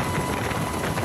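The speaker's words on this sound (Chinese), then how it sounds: "空勤直升机来回洒水灌救，顺利控制火势。" A fire-fighting helicopter flies overhead while dropping water on a forest fire in the mountains along the Central Cross-Island Highway, a steady loud rotor roar with no pauses.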